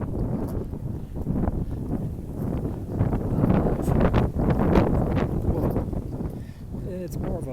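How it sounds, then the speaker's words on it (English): Strong outdoor wind buffets the microphone in a continuous low rumble and roar that swells and eases, with a voice faintly audible under it. "Windy as hell."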